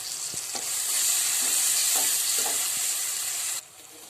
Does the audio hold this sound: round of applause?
no